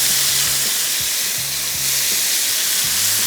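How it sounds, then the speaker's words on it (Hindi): Chicken frying in a pan, a loud continuous sizzle and hiss close up with occasional stirring clatter and a low hum underneath. "लेकिन सबसे पहला काम चिकन की फ्राइंग, तो चिकन को थोड़ा सा किया फ्राई।"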